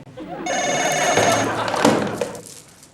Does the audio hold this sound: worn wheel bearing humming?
no